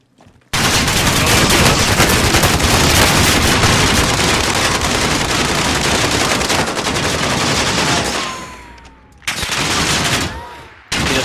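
Heavy automatic gunfire in a shooter video game with pistol and shield play, loud continuous bursts filling several seconds, breaking off briefly near the end before resuming.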